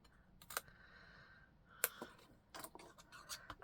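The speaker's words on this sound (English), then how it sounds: "the scissors and do a little bit of trimming." Scissors trimming card paper give a few sharp, quiet snips and clicks at close range, separated by short pauses in a hushed room.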